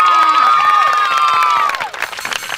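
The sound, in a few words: audience applause for a child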